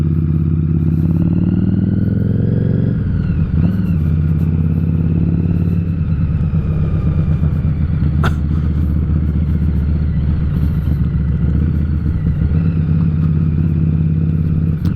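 Harley-Davidson Street 500 ridden at night, its engine a loud steady drone from the rider's position, with a brief dip and rise in pitch as the rider shifts gears partway through.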